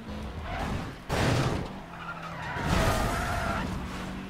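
A car in Need for Speed World brakes hard, and its tires skid and squeal across several seconds under a steady engine roar, close and fairly loud.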